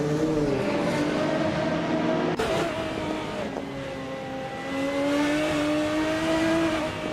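A 1993 Toyota Carina E GTi races against other cars in a video game, its engine droning loudly and steadily with rising and falling pitch as it accelerates and shifts, plus a brief sharp jolt partway through.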